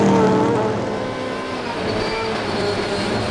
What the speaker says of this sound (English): the V8 engine in that blue Volvo